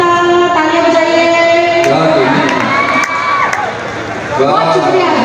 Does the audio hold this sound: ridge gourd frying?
no